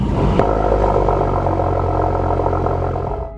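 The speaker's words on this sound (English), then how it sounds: "This twin-turbo V6 engine doesn't sound bad at all, especially in cold start." An Audi RS5's twin-turbo V6 engine idles steadily and loudly nearby on a cold start, with a deep, even drone and a slight rough edge, fading a little at the end.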